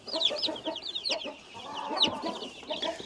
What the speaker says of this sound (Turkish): yem tepsinin üzerine de yeni çıkmış civcivlerimi bırakıyorum.